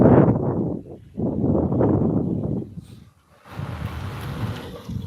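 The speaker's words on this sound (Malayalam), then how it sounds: "നല്ല കാറ്റുണ്ട് തണുപ്പുണ്ട്" Gusty wind buffets the microphone in heavy, rumbling bursts that swell and drop, with a short lull before another rush of wind.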